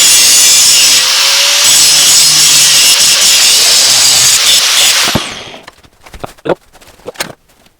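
A file-steel hoe blade has its bevel ground on a power grinder: a loud, steady abrasive whine and rasp for about five seconds, then it stops, leaving a few scattered knocks and handling taps.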